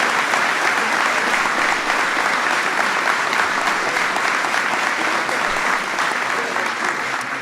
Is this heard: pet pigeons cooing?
no